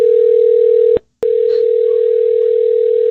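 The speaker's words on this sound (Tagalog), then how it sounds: "Huggy, hello? Pick up the phone, man." Inside a Roblox game, a phone call to Huggy Wuggy produces a loud, continuous dial tone that breaks off with a click and a brief silence, then resumes steadily. A faint voice sounds once in the middle.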